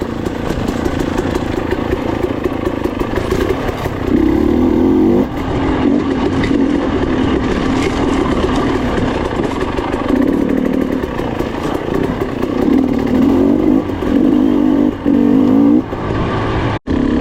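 Motocross dirt bike ridden over big natural-terrain enduro trail, engine droning steadily and close throughout, rising in revving surges with throttle changes, no voices.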